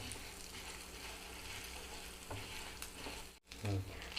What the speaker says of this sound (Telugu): మినప్పప్పు, శనగపప్పు కొంచెం వేగినాయండి.